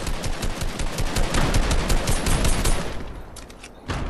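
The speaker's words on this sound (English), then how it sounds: "Somebody's shooting us from the east." Rapid automatic gunfire rattles through a video game firefight, with dense, loud, close bursts running almost without a break and a brief lull before a final shot.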